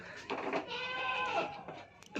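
A pregnant goat, expecting for the first time, bleats in a series of wavering, nasal cries close by, with brief pauses between calls.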